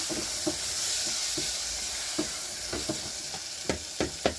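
Onions and tomatoes fry in a pan for Kamande, a steady soft sizzle under scattered sharp clicks of a spoon stirring against the pan, fairly quiet and close, with no talk.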